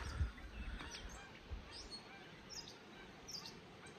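In the morning at Palisades Reservoir, Idaho, wild birds give faint, sparse chirps and calls over a low ambient rumble.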